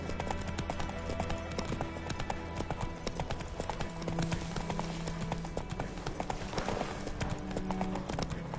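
Horse hooves clip-clop steadily in The Witcher 3, a continuous trotting rhythm over ambient game music and background hum, with no voices.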